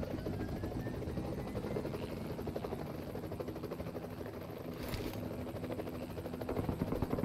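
A helicopter in the battle-royale game PUBG Mobile drones steadily with a constant rotor thrum, heard from inside the aircraft with a brief whoosh midway.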